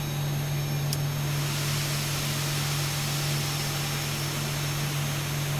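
Engine two of a Boeing 737-700 (Zibo mod) spools up in the X-Plane 12 flight simulator with a loud, steady broadband roar and a constant low tonal whine that hold unchanged throughout.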